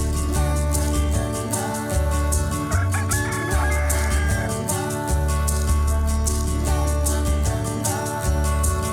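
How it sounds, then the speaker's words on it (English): Chicken clucks and a rooster's cock-a-doodle-doo on a farm, blended into a bouncy children's song with steady bass and a busy backing track that runs throughout. "What am I? A chicken!"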